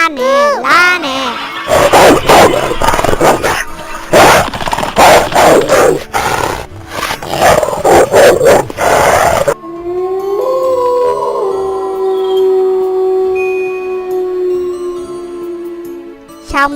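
A wolf in a cartoon growls and howls in rough bursts, loud and close, with excited cartoon voices talking over it, followed by a sustained howl-like tone and music.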